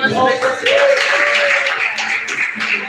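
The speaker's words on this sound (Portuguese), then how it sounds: "Mais palmas" A church congregation at a Wednesday evening worship service claps steadily together, a dense, continuous patter heard through loud singing and voices in a reverberant hall.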